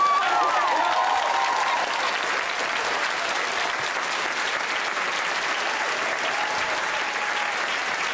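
Young delegates at a youth parliament debate applaud after a speech, a loud, dense wall of clapping from a large audience that carries on evenly across the whole stretch.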